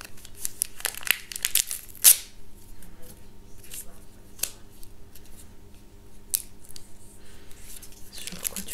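Harry Potter trading card pack being torn open, crinkly foil wrapper tearing and rustling in short sharp bursts, close-up, with a voice speaking partway through.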